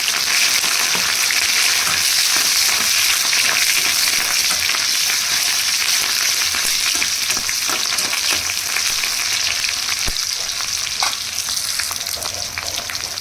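Onion and green chilli fry in oil in a kadai, a sustained loud sizzle with scattered pops and stirring clicks, steady across the whole stretch.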